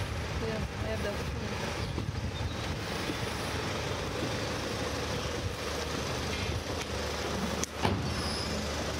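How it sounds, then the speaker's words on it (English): Road traffic passes in Portugal as a continuous low rumble of vehicles with tyre and wind noise, plus a brief louder bump near the end. "There seems to be more traffic than before."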